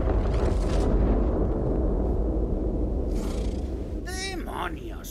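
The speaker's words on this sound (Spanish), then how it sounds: "se oye una enorme explosión" A huge explosion in Tiny Tina's Wonderlands, played on Xbox Series X, booms as a loud, sustained rumble with a broad roar that slowly fades, and a brief higher whoosh near the end.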